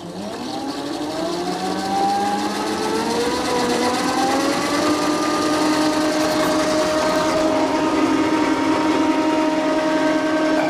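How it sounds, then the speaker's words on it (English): Electric tractor with its PTO engaged during a mowing test, giving a steady, loud mechanical whine with several rising tonal layers that hold evenly for the whole stretch, with no voices. "So I'll just start the PTO again so that I can lower the"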